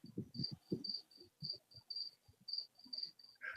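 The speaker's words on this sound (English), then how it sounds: "you know he's back when you hear the crickets." Crickets chirping in a regular pulsing rhythm, each high trill repeating about twice per second, faint and quiet, alongside soft low thumps and rustles.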